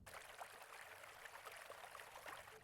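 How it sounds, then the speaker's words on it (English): Water sound effect opening an electronic song, a soft, continuous trickling stream, faint and steady throughout. "We're starting with a water sound in the start of the song."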